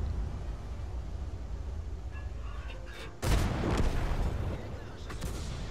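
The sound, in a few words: Sturer Emil tank gun firing in a video game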